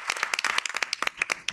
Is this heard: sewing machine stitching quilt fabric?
no